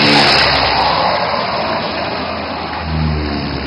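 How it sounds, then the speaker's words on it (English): Loud, steady engine roar of an AN-32 transport aircraft approaching to land on a highway at a Dibrugarh Moran airshow in Assam, a broad sustained drone with a slight swell near the end. "The pilot is aligning a massive transport aircraft."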